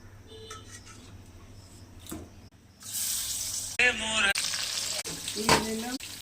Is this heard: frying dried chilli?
yes